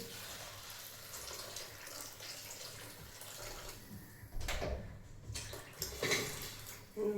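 Water is poured into a vessel as a soft, faint rush, with louder splashy bursts in the later seconds and no talk over it.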